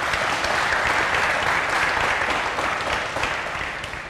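A studio audience applauds a quiz-show contestant in the hot seat and his friend, a dense, steady burst of clapping that swells and then gradually tapers off.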